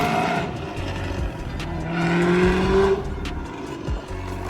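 Small GTO car driving slowly, a steady engine note with tonal drones that rise in pitch briefly midway, close and fairly loud with a few clicks and knocks and no talk.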